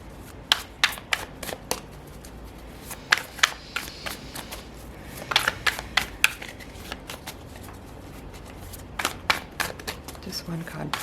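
A Folia tarot deck is shuffled by hand in a series of crisp riffling bursts of card flutter. The shuffles come in uneven clusters, fairly close and clear over a quiet background.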